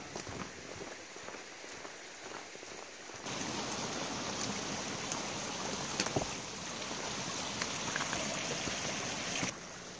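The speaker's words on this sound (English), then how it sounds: "A stream running along the trail." A stream runs beside an Appalachian Trail hiking path, a steady broadband rush of flowing water that swells noticeably louder after a few seconds and holds close and continuous, with no talking over it.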